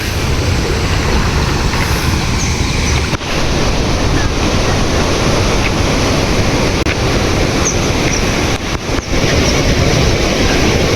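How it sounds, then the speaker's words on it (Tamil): A strong, steady rush of water from Bhavanisagar Dam flowing hard through the Palakkarai aqueduct channel near Perundurai, Erode, a loud continuous roar with wind buffeting the microphone. "பாருங்க ஃபுல்லாக தண்ணி போகுது"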